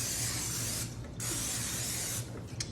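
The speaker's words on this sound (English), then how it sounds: "So I'm gonna spray my waffle iron." Cooking spray hisses onto a waffle iron in two long close bursts, a strong airy spray with a short break between them and a small click at the end.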